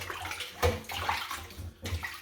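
Cold tap water running and splashing while raw chicken is washed by hand, a close irregular stream with repeated sloshing surges over a few seconds.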